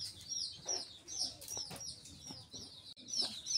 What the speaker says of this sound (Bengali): আমাদের আরো নতুন নতুন বাচ্চা হয়েছে, মুরগির বাচ্চা